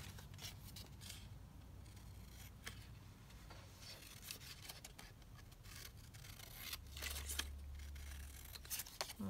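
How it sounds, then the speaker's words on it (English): Scissors trimming paper for a junk journal, steady soft snips and rubbing under low hum, with a louder rustle near the end. "whoa, trim that down."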